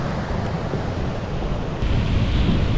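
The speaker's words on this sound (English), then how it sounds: "it's pretty windy and pretty choppy" Strong wind buffets the microphone over choppy surf at sea, a steady broadband roar of gusts and rough water that swells slightly louder near the end, with no talking.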